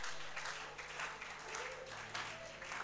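A church congregation applauding during a French-language sermon: steady, moderately distant clapping sustained throughout, mixed with crowd murmur and a low hum underneath.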